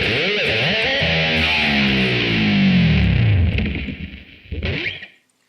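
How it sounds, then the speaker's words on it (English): Electric guitar playing two quick slides followed by a long, deep whammy-bar dive bomb whose pitch sweeps steadily downward, then a brief final note before silence; loud and heavily distorted. "Now next up, I'm going to do two slides and then a really deep dive bomb."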